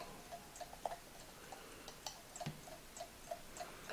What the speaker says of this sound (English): Let's use this chicken clock.